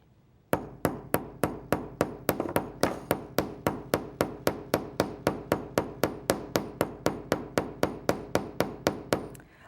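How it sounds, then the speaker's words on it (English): A metal hammer strikes wire resting on a steel block in an even, steady rhythm, about thirty sharp ringing taps close up, with no talking. "I'm going to take a hammer, metal hammer, and I'm going to fan out, hammer out, just about 3/8 of an inch"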